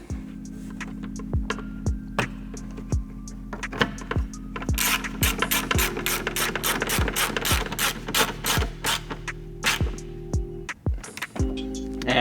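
A ratchet drives T25 Torx screws into the factory fender liner of an MK7 Golf GTI during a rear diffuser install. Steady bursts of close, crisp pawl clicks play over a low, constant hum.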